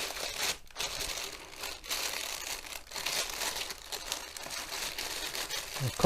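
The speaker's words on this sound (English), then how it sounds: "I'll cut the bag open." Scissors cutting open a large plastic bag around a boxed Christmas tree replacement, a run of close crinkling and rustling broken by a few brief snips and pauses.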